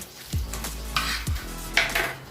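A spoon stirs carrot tarator mixture with salt in a bowl, giving a few scraping, clinking strokes against the bowl in an uneven rhythm, close and fairly quiet with no talk.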